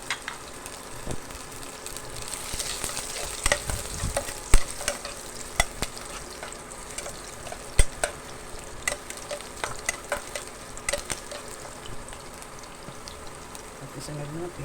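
Garlic fries in a pan with a continuous crackling sizzle, broken by frequent sharp scrapes and taps of a utensil as it is stirred, moderately close.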